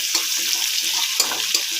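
Chopped onion and green chillies fry in a pan with a steady, bright sizzle and crackle, close up and continuous, with a few louder pops and stirring scrapes along the way.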